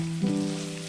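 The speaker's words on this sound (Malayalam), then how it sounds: "ഉള്ളി ഒന്ന് നല്ല രീതിയിൽ വാട്ടിയെടുക്കാം." Onion with crushed ginger, garlic, slit green chillies and salt sizzles while sautéing in coconut oil for a Kerala-style pork curry: a brief, steady hiss of frying under a low electrical hum.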